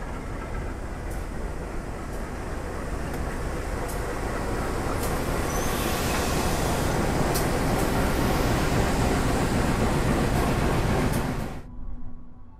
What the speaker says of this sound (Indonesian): Ini bakal ada kereta yang masuk, kereta Pandanwangi. Nanti masuknya di jalur 3.